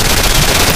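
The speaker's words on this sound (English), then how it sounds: "We got the heavy machine gun." Heavy machine gun firing in the sci-fi shooter Nuclear Dawn, a brief, very loud, dense burst of automatic fire heard close up with no talking.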